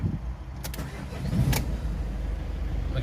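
A Peugeot Boxer 2.0 van engine cranks briefly and catches, then settles into a steady, close low rumble at idle.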